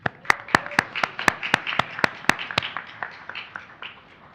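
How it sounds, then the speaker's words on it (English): Small audience at an Ohio allies and advocates gathering clapping for sponsors, a few close, sharp hand claps in a quick rhythm that thins out and fades near the end. "Please help me in joining a round of applause for our partners of equality"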